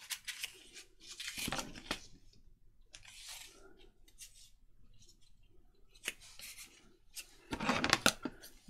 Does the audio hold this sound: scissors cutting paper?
yes